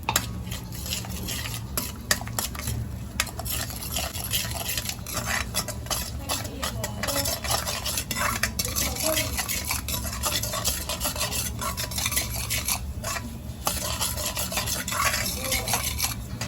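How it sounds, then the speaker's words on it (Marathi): Fenugreek being roasted in ghee in a home kitchen, with a spoon steadily scraping and stirring against the pan throughout, close and continuous, alongside a soft sizzle. "मेथी हे करून घेते. तुपात भाजून घेते"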